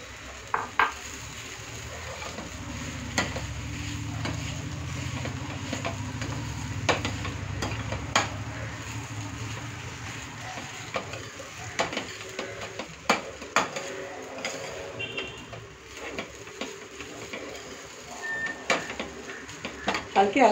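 Boiled rice for mango rice is gently stirred and mixed in a pan, with soft scraping and sharp clicks of a utensil against the metal and a quiet sizzle, while a voice talks over it.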